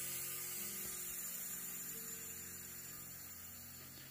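A used gas canister being emptied gives a steady, continuous broadband hiss that fades slowly over about four seconds, with a low hum beneath it and no talking.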